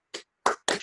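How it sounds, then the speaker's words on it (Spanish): Three separate hand claps from webinar participants, each short and sharp, with silence in between, close to the microphone. "Y que nos den un aplauso, porque estuvo muy bueno."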